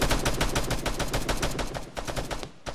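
An AI soldier in Arma fires in automatic mode, a loud, rapid, evenly spaced burst of gunshots that runs continuously for nearly three seconds before cutting off.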